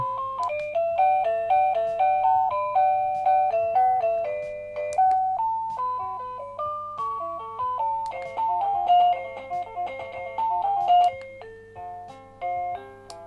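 A bright electronic chime melody from a children's bunny night-light alarm clock plays a sequence of beeping notes over a steady low hum, close and clear.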